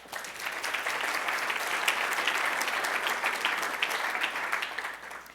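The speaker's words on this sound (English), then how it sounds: "So a round of applause for these award winners from last year." An audience at an ANA marketing awards event gives a round of applause for award winners. The clapping is dense and sustained, swelling quickly and holding steady for several seconds before tapering off.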